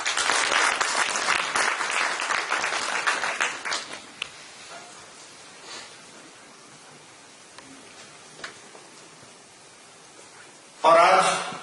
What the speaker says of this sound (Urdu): آپ کی بھرپور تالیاں جناب محترم